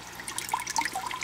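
Water bubbling in a DIY organic compost tea hydroponic system for tomatoes, greenish from fish water and seaweed feed: a soft, steady gurgle with small scattered pops and drips, fairly close and quiet, with no voices.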